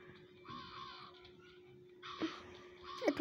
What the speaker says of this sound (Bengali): এত কাক কেন এদিকে?